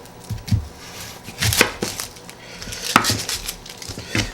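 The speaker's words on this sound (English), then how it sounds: "what we're going to do is just cut this part off here" A knife chops through an onion on a cutting board, giving a few distinct, close knocks and thuds at an uneven pace with short pauses between strokes.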